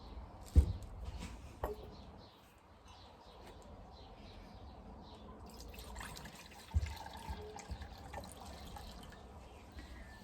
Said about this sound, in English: I'm going to pour my water into one of these bowls.